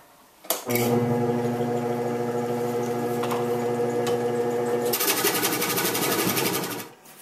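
A Nova 3000 wood lathe spins up and turns an outrigger piece, giving a steady mechanical hum, then a brighter scraping, ticking cut near the end before it winds down.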